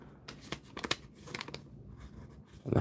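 Crinkly rustling and crackling of a plastic Lego polybag being handled and torn open, a run of short close crunches and tears, with louder handling noise at the very end.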